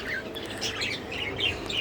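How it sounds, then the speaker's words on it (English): Pet budgerigars in a home cage chirp and twitter continuously, a busy stream of bright, fairly faint calls with no voices. "So, I'm gonna show you my part 2 budgerigar birds."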